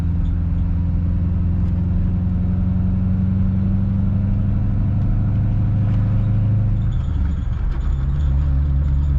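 A 2004 Pontiac GTO (Holden Monaro) engine drones steadily from inside the car while driving on Route 70, a loud, constant low hum that shifts pitch near the end as revs change.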